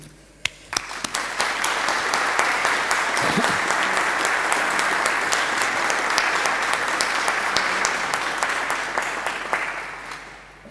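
A large audience at an awards ceremony applauds steadily for about ten seconds, a dense sustained clapping that swells quickly and holds at full strength before easing slightly.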